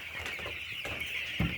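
A flock of about 225 meat chickens in a barn clucks and peeps continuously over a steady high-pitched hum, with a louder cluck near the end.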